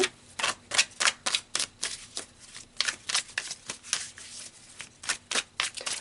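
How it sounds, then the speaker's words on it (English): Tarot cards are shuffled by hand in quick, close riffling bursts that repeat in a steady rhythm for several seconds, crisp and fairly loud, with no voices. "let's pull some more cards"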